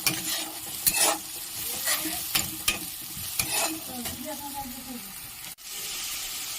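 Spices with cumin and chilli powder being stirred and fried in hot oil for a dhaba-style egg tarka, a steady sizzle broken by repeated scraping strokes of a spatula against the pan, close and alone.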